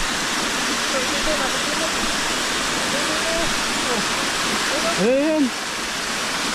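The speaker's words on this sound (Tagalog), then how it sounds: "Ang lakas ng agos." Strong water current surging through a flooded dam spillway, a loud, steady rushing roar that fills the scene, with a person talking briefly and a bird or child's squeaky call over the torrent.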